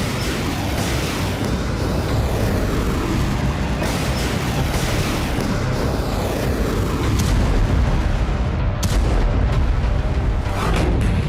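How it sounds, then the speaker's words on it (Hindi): Heavy, continuous roar of missile strikes on Israeli cities such as Netanya and Tel Aviv, with dense rumbling blasts and scattered sharper bursts layered into a loud, unbroken wall of sound. "बेरूत से दागी गई मिसाइल ने नेतानिया शहर को भारी नुकसान पहुंचाया"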